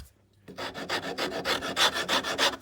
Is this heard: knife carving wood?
yes